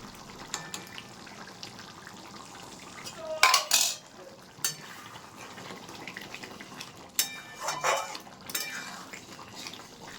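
Cauliflower with a spoonful of ghee is stirred in a pan for a Kashmiri-style dum, with clattering scrapes and clinks of a utensil against metal over a quiet background.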